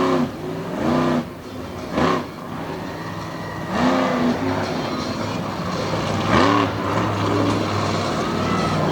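A monster truck circling the Lake Erie Speedway track at sunset, its engine surging through repeated loud revs and roaring passes, with a commentator talking throughout.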